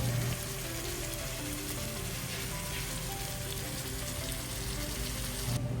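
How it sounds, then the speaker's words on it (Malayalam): Sliced onions and chilies sizzle in hot oil for a chicken fry, a continuous dense crackling hiss that stays close and steady throughout, with no talking. "കുറച്ച് ഉള്ളിയും മുളകും ഇതൊക്കെ ഇട്ട് എണ്ണയിൽ വാട്ടി"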